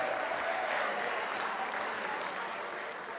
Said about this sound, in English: Can you put your hands together one more time for Casey and Katie?